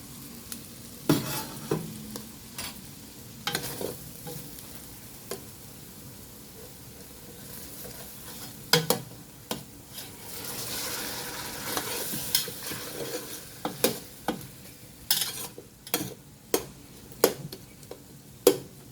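Aromatics being sautéed for arroz caldo, with several loud clattering stirs and scrapes in a pan over a steady background sizzle, close up and with no talking.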